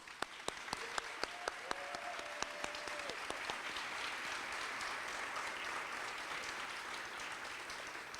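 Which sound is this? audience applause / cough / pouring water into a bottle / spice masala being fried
audience applause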